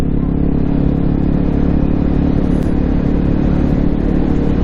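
Honda CRF250L single-cylinder motorcycle engine with a new thumper sound, a loud, steady, close idling rumble that holds an even throb throughout.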